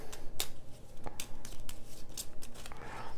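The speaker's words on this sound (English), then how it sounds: "I don't have any cards, so I need to shuffle." A deck of game cards for the board game Transcendent being shuffled, several quick crisp riffling bursts in an uneven rhythm, close and alone.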